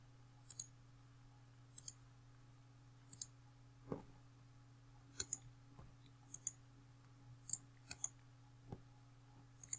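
A computer mouse clicking in sharp, quiet, isolated clicks, often in quick doubles, spaced irregularly over a steady low electrical hum.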